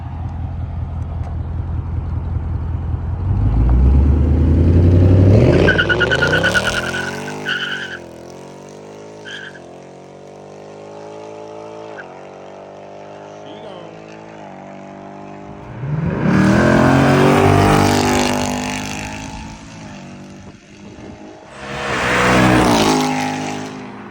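A 2024 Mustang GT fitted with Kelltrac inverted shocks, its engine revving loudly and accelerating away, tire noise rising, then fading into distant running before two more loud close bursts of acceleration return.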